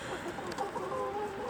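Backyard city chickens clucking softly in a winter yard, a short run of close, quiet murmuring clucks with no talk.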